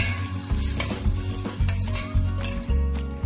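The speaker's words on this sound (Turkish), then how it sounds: "Önce etimi bu şekilde soteliyorum arkadaşlar." Meat sautés in oil in a pan for a Turkish chickpea stew, a close, steady sizzle punctuated by repeated scraping stirs of a utensil against the pan.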